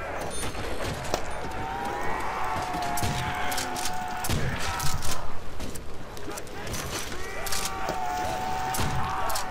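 Gun firing in Call of Duty: World at War Nazi Zombies on the Der Riese map, repeated sharp shots in quick bursts mixed with game music and effects, with voices talking now and then.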